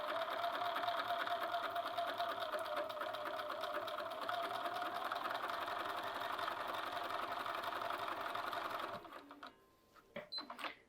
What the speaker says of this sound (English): Just going to run my line of stitching around 3/8 inch from the cut edge